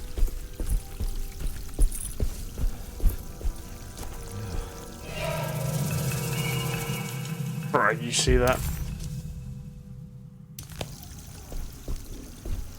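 Water pours and runs steadily in the horror video game Alone in the Dark, a broad rushing wash lasting several seconds before cutting off abruptly, with someone talking over it.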